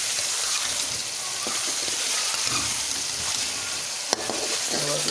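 Radish and potatoes sauté in a pan for a curry, making a dense, continuous sizzle with faint stirring scrapes and one sharp knock near the end.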